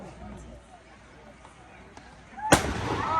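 A small ceremonial noon cannon fires in Zagreb, Croatia: a single sharp, loud boom bursting out after a quiet stretch of street ambience, with its blast ringing on to the end.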